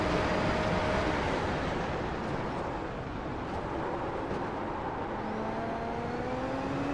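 A Super Formula race car in a racing video game drones steadily at high revs against the rev limiter, a dense, continuous engine roar with no talking over it.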